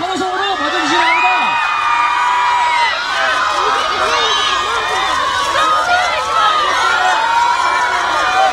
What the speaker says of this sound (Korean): 더 큰 환호성으로 맞아주시기 바랍니다.